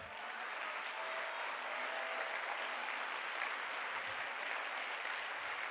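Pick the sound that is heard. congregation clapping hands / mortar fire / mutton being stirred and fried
congregation clapping hands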